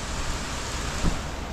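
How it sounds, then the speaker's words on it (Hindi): Heavy rain falls steadily in Pakistan, a dense, even hiss with no voices over it. "बड़ी अच्छी बारिश हो रही है"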